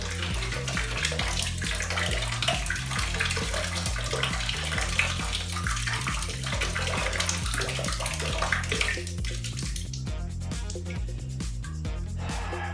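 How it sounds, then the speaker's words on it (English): Water runs steadily from a tap into a container, a dense continuous splashing and gurgling rush that stays loud and close throughout, its tone shifting slightly near the end as the level rises, with no voices. "Even when I try to fill it up with water"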